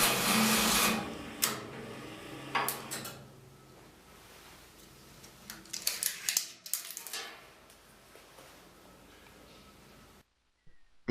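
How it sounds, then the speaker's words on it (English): A Huijin ZK400BL banknote strapping machine feeds and cuts its PP strapping belts. It makes short whirring and clattering mechanical bursts with sharp clicks, which taper off and then stop near the end. "Before the first strapping work of every day, it is required that the PP belts left in the track are refreshed."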